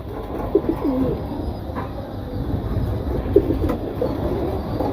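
A young pair of pigeons gives repeated low, throaty coos at close range, in two separate bouts over a steady background hum.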